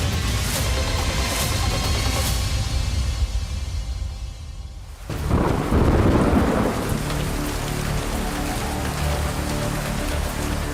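Heavy rain pours down in a thunderstorm, a dense roaring hiss, with a deep rumbling crash of thunder breaking in midway and rolling on beneath the downpour.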